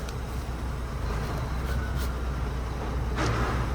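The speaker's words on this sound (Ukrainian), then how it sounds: "Вибачте, фура їде, буде трошки шумно." A heavy truck rumbles past on the road beside an auto-parts shop, a steady low roar close by that swells slightly toward the end, with no talk over it.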